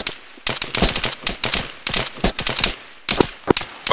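Gunfire in a military operation, bursts of sharp shots coming in dense, rapid clusters separated by short pauses, loud and close, with no talk over them.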